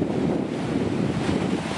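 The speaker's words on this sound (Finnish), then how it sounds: "Ei nää oo kunnon aaltoja nämä." Arctic sea waves off the Norwegian coast near Berlevåg, heard as a steady, loud, broad rush of surf with heavy wind buffeting the microphone throughout.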